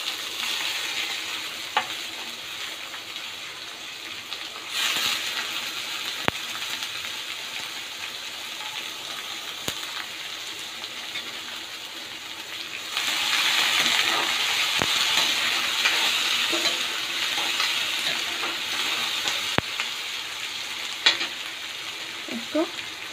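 Finely chopped onions fry in oil for a besan and onion sabji, a continuous close sizzle that grows louder midway, with occasional sharp clicks of stirring and no speech.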